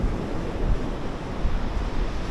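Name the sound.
rough ocean surf on a Brazilian beach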